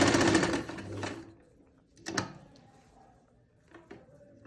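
Sewing machine stitching pleats into a lined shirt, one loud rapid burst of running stitches at the start, then quieter brief handling clicks and a couple of short stitch bursts.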